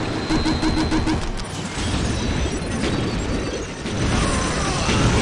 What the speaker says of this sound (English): Artillery, open fire!